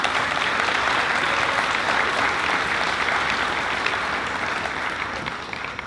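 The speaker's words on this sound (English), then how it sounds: "Let's give them a round of applause for the graduates." Sustained, dense applause from a large audience at a high school graduation ceremony for the class of 2016, loud and steady throughout with no pauses.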